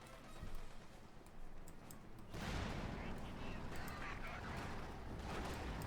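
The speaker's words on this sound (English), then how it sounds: "Heavy machine gun shooting that" Heavy machine gun fire in Company of Heroes 2 battle, a rattling, crackling burst that swells into dense continuous gunfire and rumble midway, fairly distant and mixed with other combat noise.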